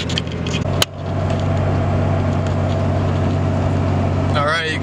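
A pickup truck cruising at highway speed in tow/haul mode and fifth gear while pulling a camper, a steady loud engine and road drone running throughout, with a sharp bump near the start.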